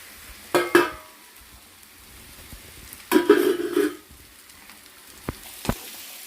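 Carrot pieces dropped into a pan of frying onions for an aloo carrot curry, giving two bursts of loud sizzling and scraping separated by quieter frying, then a couple of sharp clicks near the end.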